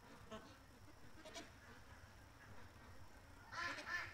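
Ducks give faint, scattered quacks at a distance, with a louder burst of calls near the end, over a quiet outdoor background with some talking.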